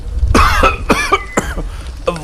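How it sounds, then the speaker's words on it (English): A man coughs hard several times in quick, harsh bursts, close and loud, with short gaps between each fit. "Suddenly, one of the men started coughing badly."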